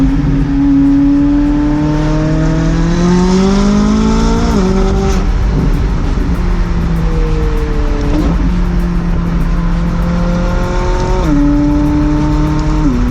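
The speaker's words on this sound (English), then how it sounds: "You guys got to hear a McLaren in person" A McLaren sports car engine revs loudly through repeated rising gear pulls, each climb dropping sharply at the shift, close and continuous with no talking.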